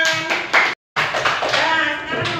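Audience applause for group 2 in a classroom teaching session, a burst of clapping that stops briefly and then resumes fuller and denser, close and loud.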